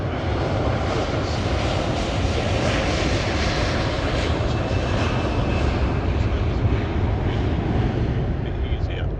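Airliner taking off at Heathrow Airport, a steady, loud broadband engine roar filling the whole stretch, with a person talking over it.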